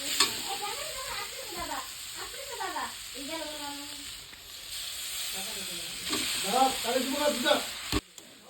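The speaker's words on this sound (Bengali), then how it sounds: "এখন আমি চাউমিনগুলো ওটার মধ্যে দিয়ে দেবো আর এটা শুধুমাত্র ভাজাই" Chow mein noodles frying and being stirred in a pan, a steady sizzle with scraping stirs throughout, under a voice talking over most of it.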